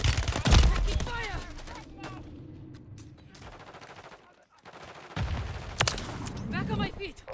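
Rapid bursts of gunfire ring out in a battle royale video game, sharp cracks and fast volleys at the start and again near the end, with game voices talking in between.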